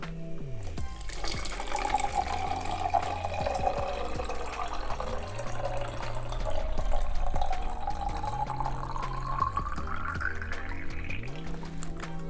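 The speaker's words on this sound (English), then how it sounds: "I'll literally just put water in, top it up so that" Water pours into a jar of Philodendron micans cuttings, a steady trickling fill whose pitch rises as the jar tops up. It is close and continuous, heard over soft background music with no talking.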